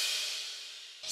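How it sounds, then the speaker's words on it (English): Orchestra-style crash sample from a smooth hip hop beat, a single bright, hissy cymbal wash decaying steadily over about a second, heard alone. "The next sound that I added was a crash, just an orchestra style crash"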